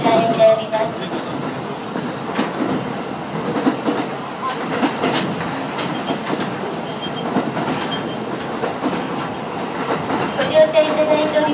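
The Kushiro Shitsugen Norokko sightseeing train, an open-window observation train on the Senmo Main Line, rumbles along with rhythmic clickety-clack from the wheels and occasional squeals, heard from inside a carriage while a voice announces over it.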